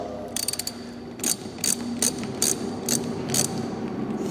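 Ratchet wrench tightening the bolts on a Barton Challenger pistol grip, a burst of fast clicks followed by six or seven evenly spaced short ratcheting strokes, close and clear with no talk.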